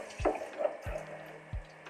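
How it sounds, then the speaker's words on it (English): Running water rinses product out of hair during a wash, a faint, steady wash of flow broken by a few soft low thumps and splashes. "Then you're just going to rinse."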